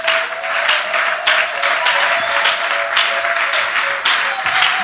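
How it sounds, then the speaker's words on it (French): Church congregation applauding and cheering to acclaim the Lord, steady dense clapping with raised voices throughout, loud and close, no clear speech over it. "est-ce que tu peux acclamer très fort le Seigneur?"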